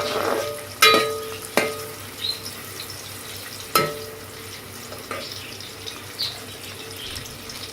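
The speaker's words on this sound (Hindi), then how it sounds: "और प्याज को ब्राउन होने दें ताकि हमें चावलों के लिए अच्छा रंग मिले।" Onions fry in a pan for peas pulao, a soft sizzle beneath several sharp clinks and scrapes of a spoon stirring against the pan.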